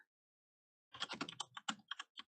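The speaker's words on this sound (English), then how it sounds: "I'm just gonna wait and get him to finish typing." Computer keyboard typing in a quiet room: a quick run of clicky keystrokes lasting just over a second, fairly close and clear, with no talking over it.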